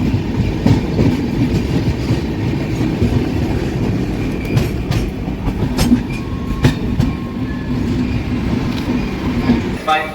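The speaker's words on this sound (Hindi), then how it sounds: "और अभी सिग्नल लाल है और देखते हैं यहाँ पर ट्रेन हमारी खड़ी होती है या नहीं" Interior rumble of the Tamil Nadu Sampark Kranti Express (12651) waiting at a red signal near Warangal: a steady low hum with faint rail clicks, continuous and fairly loud, with muffled background chatter.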